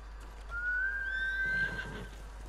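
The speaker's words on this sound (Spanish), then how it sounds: "Se me ha ido el caballo." A horse in the video game Ghost of Tsushima gives a loud, drawn-out whinny lasting over a second, with faint hoofbeats beneath it.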